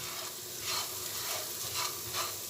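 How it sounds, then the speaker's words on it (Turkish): Rice being stirred in melted butter and salt in a pot for Turkish pilaf, a soft scraping stir with faint sizzle and a few louder spoon passes, no talk. "Hemen karıştırıyoruz. Tereyağımızın içerisine geçmesini sağlıyoruz."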